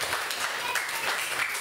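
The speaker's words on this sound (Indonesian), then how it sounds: "Sekali lagi kita kasih tepuk tangan yang paling meriah buat Tuhan Yesus." Children clap together during a Sunday children's worship service, a short, moderately faint patter of many hands with a voice sounding over it.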